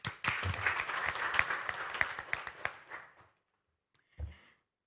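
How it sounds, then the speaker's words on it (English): Applause from the audience at an energy ministry embassies forum, a dense burst of clapping that fades out after about three seconds, followed by a brief muffled thump. "Let's give ourselves a big round of applause."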